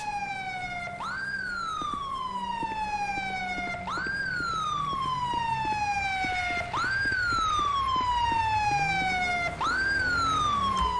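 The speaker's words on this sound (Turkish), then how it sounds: "Ambulans geliyor ambulans gel ambulans." Wailing ambulance siren in the video game GTA 5, rising and falling in repeated long sweeps roughly every three seconds, loud and steady with a low engine rumble underneath and no talk.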